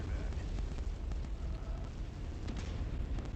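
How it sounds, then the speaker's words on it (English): Loud, dense rumbling blast from an ammunition explosion in the MechWarrior 5: Mercenaries video game, sustained over the whole moment with scattered crackles and a voice murmuring underneath. "Ammo explosion, you're dead."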